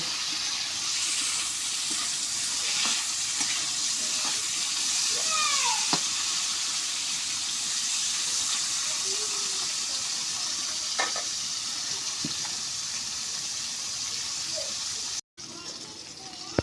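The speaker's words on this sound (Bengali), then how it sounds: "মশলাটা সুন্দর করে ভাজে নেব" Spices and salt fry in a pan while cooking a bitter gourd and potato fish curry, giving a steady, even sizzle throughout with a few faint scrapes and clinks.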